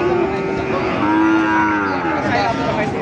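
A cow lows loudly and close by in a long drawn-out moo, with other cattle mooing underneath amid a busy crowd murmur at a cattle market in Raniganj.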